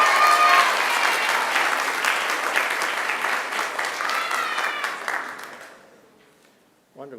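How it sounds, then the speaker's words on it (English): Sustained applause from a graduation ceremony audience at Macquarie University for graduate Gabrielle Sproul, a steady wash of many clapping hands that fades out toward the end, followed by a brief sound. "Let's give her another hand of applause."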